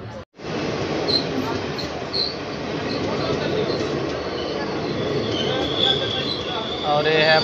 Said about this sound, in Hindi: और ये है अपने धनबाद से लेकर पटना जाने वाली, धनबाद पटना